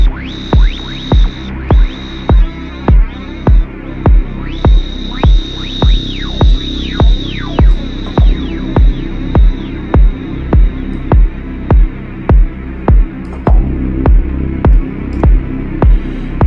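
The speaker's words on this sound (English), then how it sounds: "This flanger thing." Electronic deep techno synth with a flanger effect: a repeating kick-like thump pulses steadily under a sweeping, swirling high tone, loud and continuous with no voices.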